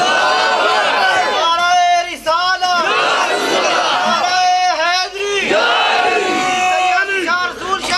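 A large crowd at a religious gathering chants slogans in loud unison, repeated bursts of many voices calling out in rhythm, close and full, with brief pauses between calls.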